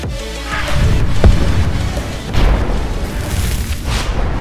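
A bomb blast in the mobile battle game PUBG Mobile, a heavy low boom that swells and rumbles for a few seconds, followed by a second softer rumbling burst, loud and close.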